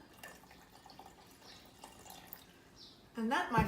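Water pours into a glass of raspberry mint water near the end, a short burst of splashing fill after a quiet stretch with faint background sounds.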